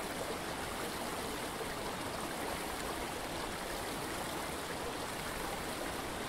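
Crisp, bubbling water of a remote Scottish river flowing steadily, a constant soft rushing hiss with no breaks and no voices.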